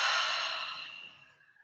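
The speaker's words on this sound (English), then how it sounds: "and expelling all the stale air" Deep exhale through the mouth, pushing out stale air during a guided breathing exercise; one long, close breathy rush that starts strong and fades gradually over about a second and a half.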